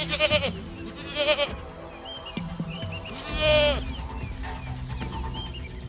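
Goats bleat in a Maasai herding village where livestock roam the savanna, with several loud, quavering calls overlapping and repeating over a busy background of other farm animals.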